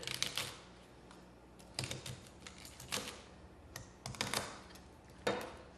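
A knife chops trimmed asparagus spears into 1-inch pieces on a cutting board, giving irregular crisp taps in small bursts, close and fairly quiet.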